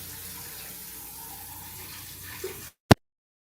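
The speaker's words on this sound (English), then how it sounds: "Rinsing out my French press, waiting for your comments." Running tap water rinses out a French press in a steady, close splash at the sink for under three seconds, then cuts off abruptly, followed by a single brief click.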